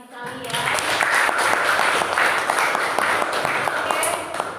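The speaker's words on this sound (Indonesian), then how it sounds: "Kita tepuk tangan lagi sekali ya." Schoolchildren in a classroom clap their hands together for several seconds, a dense, steady patter of many small hands that starts abruptly and holds at an even level, with some voices mixed in.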